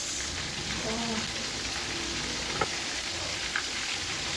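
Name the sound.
onions and liver-gizzard steak frying and being stirred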